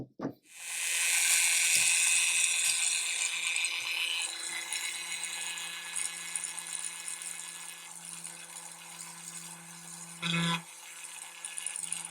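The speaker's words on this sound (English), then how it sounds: "Right, that's all the holes drilled." Small holes drilled in a 1/35 scale Rye Field Model initial production Tiger tank kit with a 0.5 and 0.8 mm bit, a close, continuous high whirring drill after a brief click, with a short louder burst near the end.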